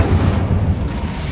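Incendio fire spell cast in the video game Hogwarts Legacy, a loud, close, rumbling burst of flame that swells and fades over about a second, with no talk over it.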